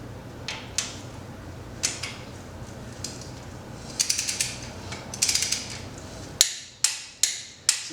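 Wrench ratchet clicks while torquing a bolt, sharp metallic ticks arriving in short bursts and single snaps, ending with four loud evenly spaced clicks, close up with no talk.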